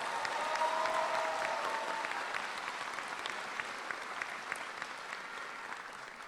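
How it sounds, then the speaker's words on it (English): At a 2022 high school commencement, an audience claps in sustained applause, a dense patter of many hands that fades gradually toward the end. "families, and friends a big round of applause?"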